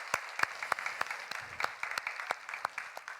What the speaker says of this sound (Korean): 박수 한번 격려합시다